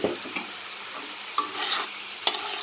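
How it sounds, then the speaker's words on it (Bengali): Dried lotia fish frying with eggplant and garlic in a pan crackles under a gentle sizzle, while a spoon scrapes and stirs in a few distinct strokes close by. "এখন আমি যে শুটকিটা রেখেছি ভেজে, রসুনটা ভেজে রেখেছি, এটা দিয়ে দিব।"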